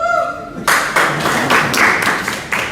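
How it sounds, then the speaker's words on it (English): An audience at a Rotary club membership engagement event claps loudly and close by in an even, rhythmic run of hand claps, following a brief voice at the start. "let's give her another round of applause as we welcome her"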